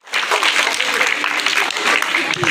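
Applause from a crowd of students at a school Teachers' Day celebration, a steady dense patter of clapping hands lasting throughout, with chatter and voices mixed in.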